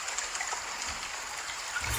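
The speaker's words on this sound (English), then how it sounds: "blasting rain sounds so that I couldn't hear footsteps" Steady hiss of recorded rain played back loudly at night to mask household noise, a continuous even patter with no other sounds over it.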